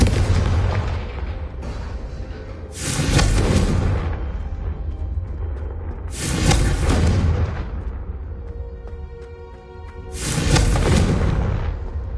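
Explosive Confringo spell blasts in Hogwarts Legacy, three loud booming bursts a few seconds apart over rumbling game combat sound.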